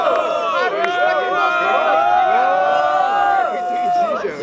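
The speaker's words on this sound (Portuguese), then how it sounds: "Barulhos pra quem gostou da rima do MT." A crowd at a student rap battle in Guarulhos roars and shouts together in sustained, loud, dense whooping and cheering for the whole stretch.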